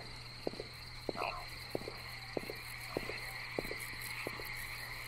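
Frogs croak in the game Loveland, a series of short, evenly spaced croaks over a steady insect-like drone and a constant high hum, moderately loud and alone.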